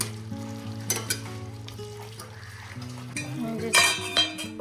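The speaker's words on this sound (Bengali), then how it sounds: "এবার সেদ্ধ কাবুলি চানাগুলো দিয়ে দেবো। ভালো করে নেড়ে চাপা দিয়ে রাখবো।" Boiled chickpeas stirred into a hot pan, a steady close sizzle broken by scraping spoon strokes and a few clinks against the metal, with a low tonal hum running underneath.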